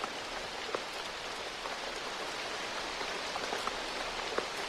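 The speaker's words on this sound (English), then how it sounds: "I like the ambiance in the rain." Steady rain falls in the Dreams video game world, a dense even hiss with scattered droplet taps across the scene and no voices.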